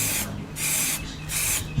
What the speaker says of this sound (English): so I'm going to spray that.